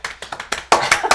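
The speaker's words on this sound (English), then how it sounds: "Clap if you don't believe." A few players at a tabletop game session clap in short bursts, sharp individual hand claps close by that grow louder and quicker toward the end.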